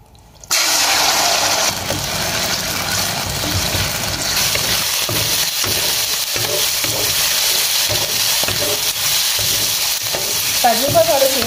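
Marinated chicken pieces hit a hot pan and fry with a loud, steady sizzle that starts abruptly and continues throughout, with occasional scraping and stirring sounds close by.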